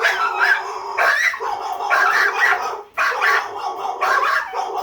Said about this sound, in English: Why are you barking at Kermit the Frog?